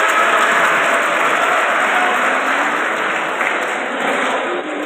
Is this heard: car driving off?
no